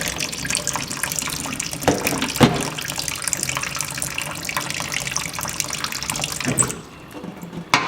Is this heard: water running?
yes